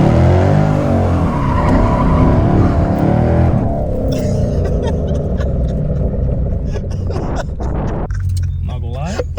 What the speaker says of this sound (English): Put the clutch in and give it some revs and then just dump the clutch.